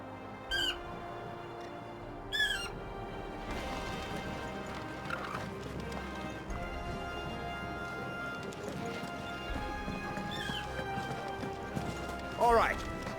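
Horse hooves clip-clopping in Final Fantasy XVI, a steady quiet plodding under music and background ambience, with occasional squawking bird calls.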